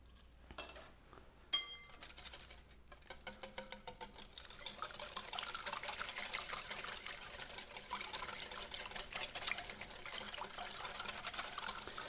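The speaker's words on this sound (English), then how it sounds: "now I'm just going to whisk it again." A whisk clinks and scrapes quickly and repeatedly against a bowl as a jam mixture is beaten, close up with no talking, after a couple of sharp knocks at the start.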